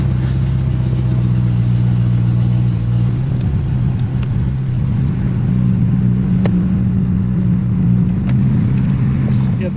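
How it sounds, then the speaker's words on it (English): A Porsche 928 reverses slowly, its engine holding a steady, low idling rumble with a faint higher hum on top for about ten seconds, unbroken and fairly close. "what I'm going to do is reverse the car back a little bit and see if it beeps"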